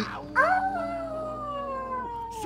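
Characters in the video game Max Payne howl together, a long sustained wavering howl with layered pitched tones that holds steady for a couple of seconds.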